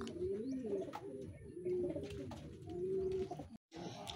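Racing pigeons in training coo in a steady, rolling murmur close by, several birds overlapping with faint chirps above, broken by a brief drop out near the end.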